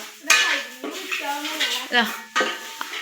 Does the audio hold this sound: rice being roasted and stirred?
yes